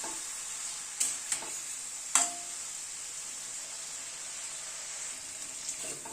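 A spiced masala for chhanar kofta curry fries in a pan with a little water, a soft, steady sizzle over low flame, broken by a few sharp scrapes and clinks from the spoon.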